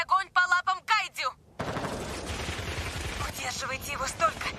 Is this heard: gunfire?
yes